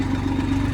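A water pump engine runs beside a canal, a brief, steady, close mechanical hum with a low rhythmic throb and no voices.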